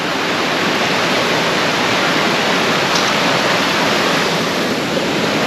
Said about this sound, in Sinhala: මේ තියෙන්නේ සුන්දර අසුපිනි ඇල්ල.